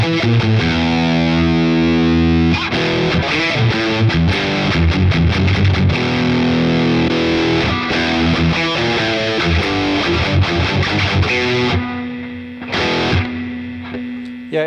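A heavily distorted electric guitar plays through a practice amp on its brown model with a boost added, giving loud, gritty chords and noisy riffs that thin out near the end.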